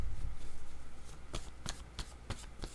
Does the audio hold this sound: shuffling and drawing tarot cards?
yes